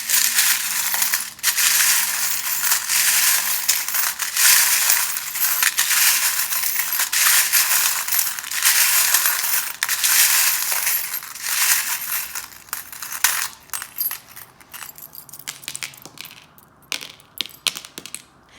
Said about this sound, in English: while I was shuffling those charms